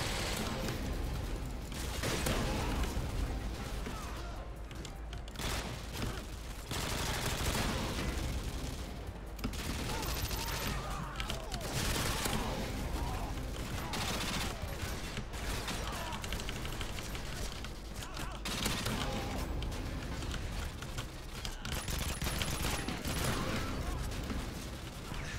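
Dense, nearly continuous bursts of hip-fired gunfire from a modded Modern Warfare 2 gun game match, rapid shots and explosions layered together at high loudness with brief lulls.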